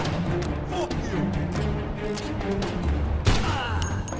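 Gunfire in the Mafia II video game, with a busy mix of shots and thuds layered under a dense in-game soundscape, a sharper burst near the end and voices talking over it.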